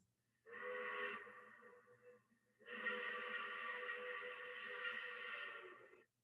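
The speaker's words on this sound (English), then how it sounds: "A steam whistle. The call of the whalers to work, it could only have come from Stromness." A whaling station's steam whistle sounds in two long blasts, a short one followed by a longer sustained one, rich and tonal, heard faintly and alone over near silence.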